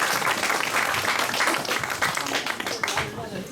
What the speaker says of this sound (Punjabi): ਪਾਸ਼ਾ ਜੀ ਨੂੰ ਤਾੜੀਆਂ ਨਾਲ ਸਵਾਗਤ ਕਰਦੇ ਹਾਂ